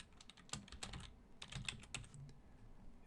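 Rapid keystrokes on a computer keyboard while a name is entered for a new Java project, clustered bursts of close, crisp clicks with brief pauses between words.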